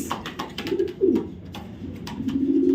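A female racer pigeon coos close by, with soft repeated throaty calls over a low steady background hum.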